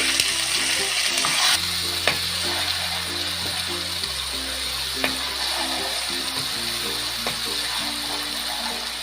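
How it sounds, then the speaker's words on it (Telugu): Chicken frying in oil with ginger garlic paste and ground masala: a continuous sizzle with repeated stirring and clinks of a spoon against the pan, no talking. "ఇది పచ్చివాసన పోయేదాకా వేయించుకోవాలి"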